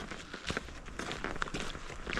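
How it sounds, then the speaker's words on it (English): A Tasmanian Tiger military-style backpack rattles and creaks with each stride of a hiker, mixed with soft footsteps, close and quiet, in irregular bursts. "Backpack making noise again."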